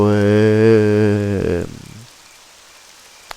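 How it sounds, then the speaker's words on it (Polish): Rain falls in the horror adventure game Daemonica, a soft steady hiss under a loud sustained tonal drone that cuts off partway through and leaves only faint patter. "zapomniałem, że tu też pada"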